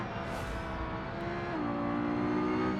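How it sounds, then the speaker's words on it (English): A high, strained engine whine of a video game race car roars continuously up close, with the pitch shifting upward partway through, straining at high revs. "Hear that car screaming behind me."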